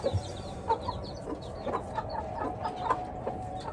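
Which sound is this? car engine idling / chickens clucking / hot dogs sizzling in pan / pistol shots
chickens clucking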